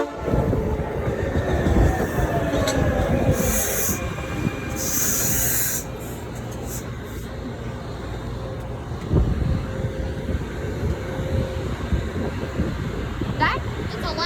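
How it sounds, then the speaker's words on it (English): A one-car 69th Street train from Norristown passes at Ardmore Junction with rumbling, clattering wheels, two short high horn blasts near the start and faint squeals, moderately distant and steady. "It's the 69th Street train from Norristown."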